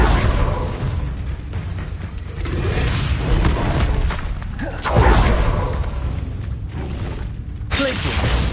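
Bombarda explosion spell cast in Hogwarts Legacy on PS5, a booming blast near the middle that stands out over steady rumbling game noise and other clatter.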